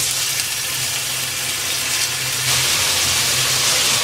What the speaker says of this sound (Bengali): আমি 2 টেবিল চামচ চিকেনটাকে ফ্রাই করে নেব, হালকা ফ্রাই করে নেব।